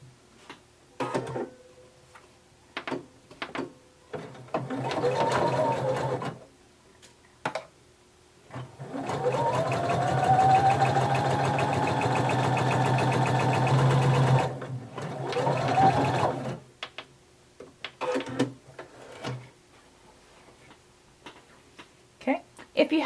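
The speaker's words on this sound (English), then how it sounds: "So you're going to sew together the center back." A sewing machine stitching the center back seam of a romper or dress, running steadily for several seconds in two bursts, close and loud, with clicks and handling noises before and after.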